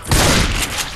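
Gunfire in the zombie shooter Left 4 Dead 2, a loud dense burst of rapid shots with booming low end, sustained for about a second with no pause.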